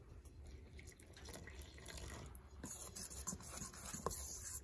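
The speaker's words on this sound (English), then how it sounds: "put some water in there" Water is poured into a flour and salt mix for bannock inside a heated winter camping tent, giving a steady splashing pour that grows a little louder toward the end, with no talking.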